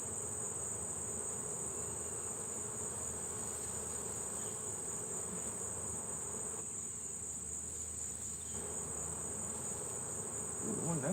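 Honeybees hum steadily around an open, active hive during a honey harvest, a dense continuous drone close by with no talking.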